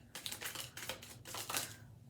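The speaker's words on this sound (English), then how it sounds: "I usually don't shuffle on camera" Quick papery riffling bursts, several in rapid succession, close and fairly soft, like a deck of cards being shuffled.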